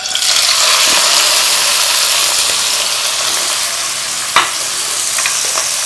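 Small boneless chicken thigh pieces frying in hot oil, a loud, dense, continuous sizzle close by with occasional stirring scrapes and one sharp clink partway through.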